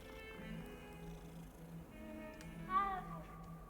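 A cat in the Hogwarts Legacy video game gives soft purring and a few faint mewing calls under quiet game background sounds, with a slightly louder meow near the end.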